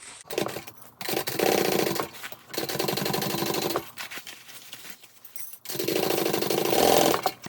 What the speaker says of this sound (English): I'm just going to open my seams outwards, match my centers, clip, and then sew it